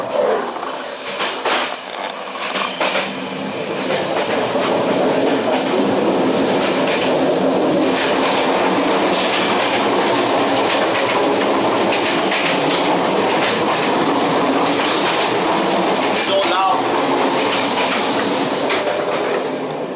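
A first class passenger train between Sofia and Plovdiv in Bulgaria rumbles along at a steady pace, a loud, continuous roar of wheels and carriage noise with faint rhythmic clatter and occasional squeals throughout.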